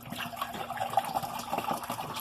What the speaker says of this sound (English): So I'm going to start off with 2 cups of filter water.